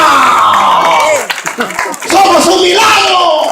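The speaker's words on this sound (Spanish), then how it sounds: "Fuerte ese aplauso, diga amén." Church congregation clapping and cheering together during a service, a loud crowd swell mixed with shouting voices and a preacher talking over it.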